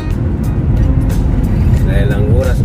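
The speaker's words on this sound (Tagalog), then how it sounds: "Pero marami ng sasakyan." Steady road traffic with many vehicles passing on a partly cloudy day, a continuous low rumble of engines and tyres at moderate distance, with a voice talking over it.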